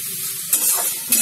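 Water is poured into broccoli and potato masala frying in a hot pan, a sharp hiss of sizzling with stirring scrapes, close and loud, swelling in two short bursts.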